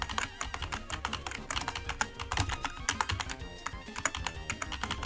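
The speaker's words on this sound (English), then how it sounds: "Sorry that you're gonna hear me clicking a lot." Rapid computer keyboard typing and clicking during a Pokemon Ruby game session, close and crisp, in quick irregular bursts of sharp taps with no talking.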